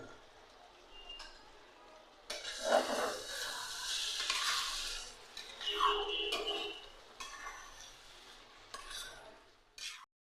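A mixed vegetable labra, with roasted ground nutmeg, mace, garam masala, chilli, coriander and cumin added, is stirred in a pan, giving bursts of scraping and clinking at moderate loudness with quiet pauses between them.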